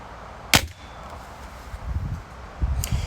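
A spring-powered air rifle fired once with a sharp, close crack, followed by quiet rustling and handling noises and a faint second click near the end.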